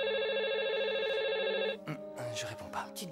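A telephone rings in a French-dubbed thriller, a steady electronic trill for almost two seconds before it stops and people begin talking.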